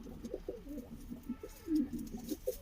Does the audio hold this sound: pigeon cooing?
yes